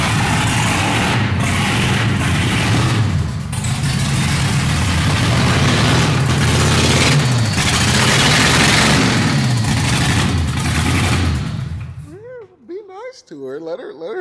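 Holden Ute with an LS V8 engine and Holley EFI runs steadily at a loud, rough idle for about twelve seconds, then cuts off abruptly, leaving quiet speech-like sounds at the end.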